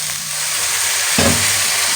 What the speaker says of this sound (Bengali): দিয়ে একটু কষিয়ে নিই